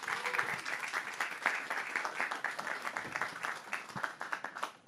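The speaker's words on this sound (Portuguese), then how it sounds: "Acho que também pode ter palmas para Célio Turino." Audience at a talk on cultural policy bursts into sustained applause, dense overlapping claps filling the whole stretch at steady loudness with a few sharper individual claps standing out.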